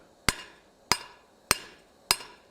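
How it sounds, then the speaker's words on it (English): Four evenly spaced, ringing hand hammer blows on hot metal on an anvil while forging, each sharp strike followed by a short metallic decay, close and clear. "I'm going to come back in with the hand hammer"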